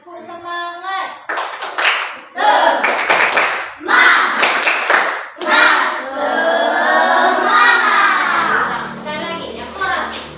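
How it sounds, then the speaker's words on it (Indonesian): A classroom of Indonesian students performs a rhythmic spirit clap, sharp bursts of hand claps in a patterned sequence mixed with children's chanting voices, close and lively. "Tepuk semangat."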